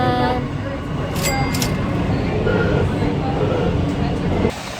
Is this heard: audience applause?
no